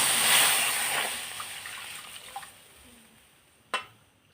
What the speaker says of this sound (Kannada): ಹಾಲು ಹಾಕ್ಕೊಳ್ತಿದ್ದೇನೆ.